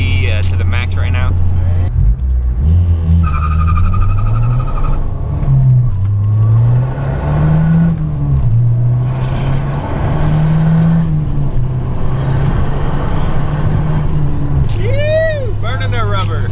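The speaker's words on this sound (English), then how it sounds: "Burning the rubber. Damn, she cracked loose right there, first gear." A boosted Honda revs hard as its tires break loose and burn rubber in first gear with traction control off, the engine note rising and falling loudly throughout, heard from inside the car under a voice.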